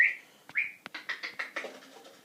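Pet parrots call close by with a couple of sharp, rising squawks, then a quick run of short chattering chirps that fades out.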